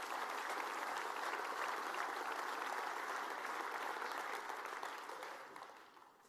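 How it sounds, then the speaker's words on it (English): Steady applause from the crowd at a mayor's state of the city address, many hands clapping evenly at a modest distance before the sound tapers off and fades in the last second or so. "Yes, clap for that."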